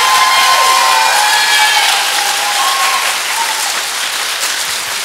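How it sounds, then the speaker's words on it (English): An audience claps steadily for a high school choir after its spring concert performance, a dense, loud wash of applause with a few faint cheers, tapering slightly toward the end. "I think we should give them a round of applause for that."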